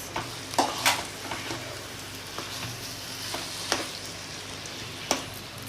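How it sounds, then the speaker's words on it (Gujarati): Mashed potato stirred into a simmering gravy in a pan for aloo paratha filling, a soft steady sizzle with occasional spoon scrapes and taps, close and without talk. "ગ્રેવી રેડી છે હવે આ પોટેટો ક્રશ નાખીશ એને હવે મિક્સ"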